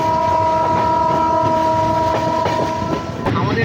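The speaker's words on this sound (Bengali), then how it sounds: "আমাদের ট্রেন এই মুহূর্তে ঝড়ের গতিতে কিন্তু রাক্সোলের পথে এগিয়ে যাচ্ছে" A passenger train on the Howrah to Raxaul line runs at speed through Bihar, heard from on board as a loud, steady rumble with rail clatter and a sustained horn tone.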